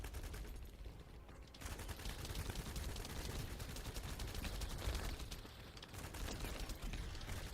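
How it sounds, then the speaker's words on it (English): Sustained automatic gunfire in The First Descendant, a dense, rapid rattle that runs almost unbroken for several seconds, briefly easing near the start and again later. "Guess I'll shoot this thing since it spawned on top of my head"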